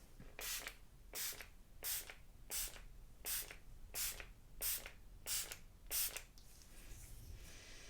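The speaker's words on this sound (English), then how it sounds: "You want me to spray it a little bit more?" Nine short aerosol spray bursts in a steady rhythm, each a sharp hiss about a second apart, close and alone, fading to quiet hiss at the end.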